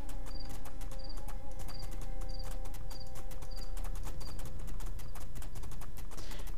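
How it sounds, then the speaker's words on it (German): Steady clip-clop of horse hooves in a regular trotting rhythm while riding across the steppe in the video game Two Worlds 2, heard alone at moderate volume with faint background ambience. "Reiten wir halt durch die weite Steppe"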